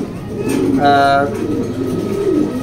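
Racer pigeons coo softly in low, rolling calls, close by, while a voice speaks over them.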